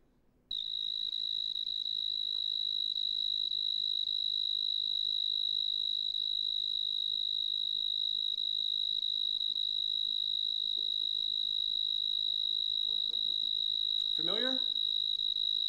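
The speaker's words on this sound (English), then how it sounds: "Here's the prairie tree cricket." Prairie tree cricket stridulating: a steady, continuous high-pitched trill, loud and close, running unbroken for the whole clip, with a brief faint chirp from another creature near the end.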